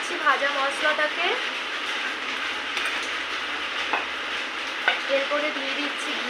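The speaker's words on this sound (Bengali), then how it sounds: "দিচ্ছি ভাজা মশলাটাকে," Roasted ground spice mix being stirred into shukto, a Bengali mixed-vegetable dish, in a pan: steady scraping and stirring over a soft sizzle, with brief voice-like sounds early on.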